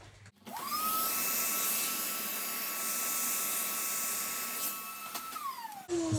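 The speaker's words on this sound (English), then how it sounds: "Just hovering the Hoover over there," A Hoover vacuum cleaner runs close by with a steady, loud whine and airy rush as it hovers over broken iPad 9th generation screen glass, starting abruptly and winding down at the end.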